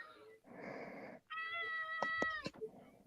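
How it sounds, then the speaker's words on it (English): A domestic cat meows several times nearby during a home podcast recording, drawn-out tonal calls with a couple of sharper, higher cries near the end. "If I hear a cat. Yeah, one of my cats."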